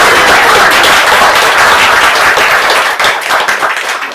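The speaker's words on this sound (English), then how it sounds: "I think they deserve one more round of applause" Loud, close applause from an open-mic night audience, dense clapping from a room of people that thins slightly toward the end.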